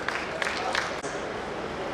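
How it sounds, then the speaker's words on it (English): A light round of applause from an audience at a stakeholders' forum in Imo State, scattered claps blending into a dense, moderate wash of clapping under a murmur of voices. "Please a round of applause for him."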